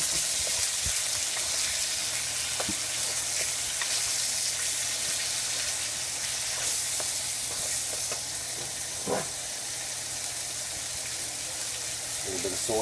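Meat sizzling steadily in a hot pan for a Japanese-style stir fry, a dense continuous hiss with occasional scrapes and clicks of stirring, close and fairly loud.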